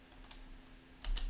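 Computer keyboard typing a terminal command: a few light, sparse key clicks, then a louder quick burst of keystrokes near the end, close and alone without speech.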